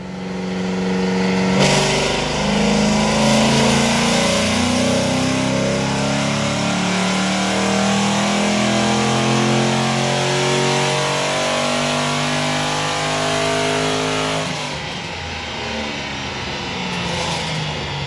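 A Ford Mustang engine on a dyno roars at sustained high revs for most of the stretch, loud and steady, then drops off briefly before climbing again near the end.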